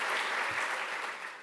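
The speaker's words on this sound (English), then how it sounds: "give you a small round of applause to It's Nice That for keeping the internet good" Audience applause at a design conference talk in London, a steady wash of clapping at moderate level lasting the whole short moment without voices.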